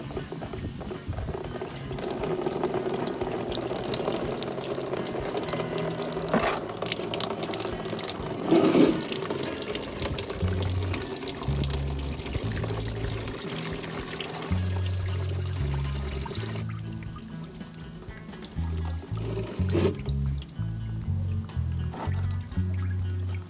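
Dirty coolant drains from a 2012 Ford Focus SE hatchback radiator into a bucket, a steady pouring trickle of liquid running continuously up close, with no talking.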